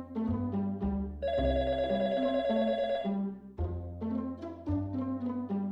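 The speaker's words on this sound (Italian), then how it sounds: "Il telefono squilla a casa di Arturo e Arturo risponde." A telephone ringing in a home, a loud electronic bell tone repeating in bursts with short pauses between rings, close by with no talking.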